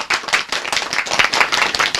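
A small group claps energetically up close, a dense, uneven patter of hand claps that continues without pause.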